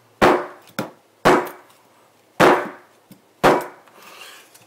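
A cheap bushcraft survival knife chops wood branches in four loud, close, sharp blows, some followed by a lighter secondary knock, with brief pauses between strikes and no talking.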